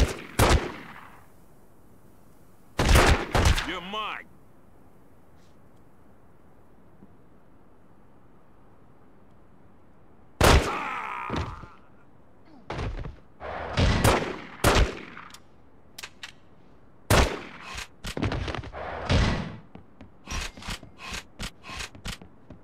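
Gunfire in The Godfather PS2 game: loud bursts of shots, some single cracks and some rapid machine-gun runs, separated by short quiet gaps and growing denser toward the end.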